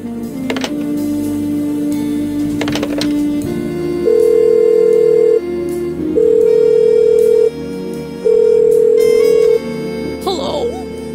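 Telephone call being placed in a video game: steady electronic ringback tones pulse in long repeated bursts after some brief tonal beeps, fairly loud and clean with no talk over them.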